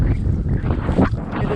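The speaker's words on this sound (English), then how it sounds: "It is a bit windy." Gusty wind buffets the microphone beside the Forest Ave Bridge, a 1910 camelback through truss bridge in Old Pattonsburg, Missouri, producing a loud, continuous low rumble that swells and eases.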